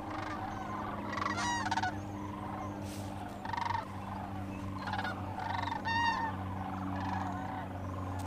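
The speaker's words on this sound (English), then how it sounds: "here they go, sandhill cranes" A flock of sandhill cranes passes overhead outdoors, their rolling, trumpeting calls repeating in scattered bursts over a steady low hum, moderately loud.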